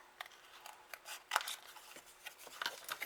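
Scissors snip through paper to fussy cut a small leaf shape, a series of light, close crisp cuts with faint rubbing between them, quiet and without talk.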